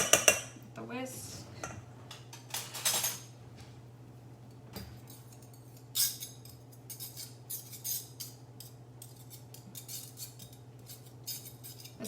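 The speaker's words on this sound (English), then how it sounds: "So, few last turns with the whisk." A whisk stirs pumpkin-spiced oatmeal batter in a bowl, with irregular close clinks and taps against the bowl, a few louder knocks, and a low steady hum underneath.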